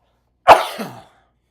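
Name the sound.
cough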